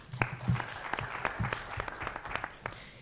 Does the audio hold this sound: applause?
yes